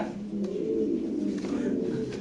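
A male Madrasi pigeon coos at a fancy pigeon farm, soft rolling low coos repeating close by in a steady, throaty rhythm.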